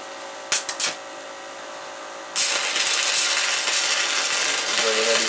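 Welding with an arc: a few sharp clicks, then a steady, loud crackling hiss that runs on without a break. The sound is close and there is no talk.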